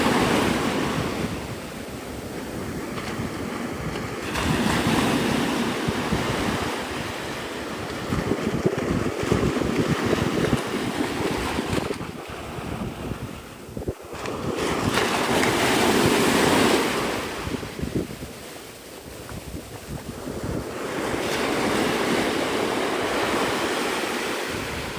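Ocean surf rolls onto Navarre Beach, Florida in broad washing swells, with steady wind buffeting the microphone throughout; no voices.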